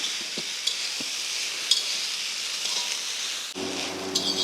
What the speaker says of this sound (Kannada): ಬೇಯಿಸಿದ ಅವರೆಕಾಳನ್ನು ಹಾಕ್ಕೊಳ್ತೀವಿ.